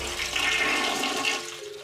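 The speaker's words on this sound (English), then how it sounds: "It takes like a ton of water, but it flushes." An old toilet in a tiny bathroom flushes with a loud rushing gush of water that holds steady and then begins to fade, heard up close with no talking.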